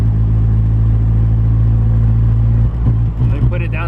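A car engine strains and bogs under acceleration in fourth gear, a steady low drone with strong harmonics that drops off near the end into irregular rumbling, with a voice in the background.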